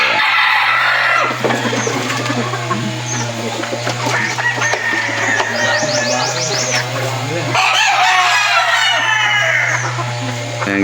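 Gamefowl stags, pullets and hens at a gamefarm crow and cluck throughout, with several roosters calling over one another near and far against a steady low hum.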